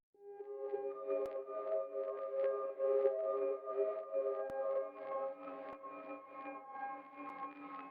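Dark ambient melody sample, played reversed with heavy reverb, swells in with soft backward-blooming tones that blur into a steady, murky wash, moderately quiet throughout with no voices.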